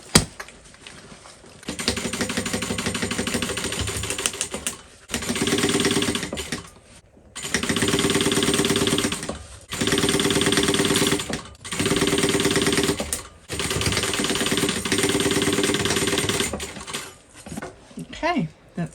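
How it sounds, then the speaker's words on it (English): A sewing machine stitches the bottom seam of a tote bag in six steady whirring runs of a few seconds each, separated by short pauses, loud and close. "we're going to sew the bottom"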